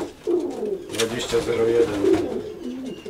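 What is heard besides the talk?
pigeons cooing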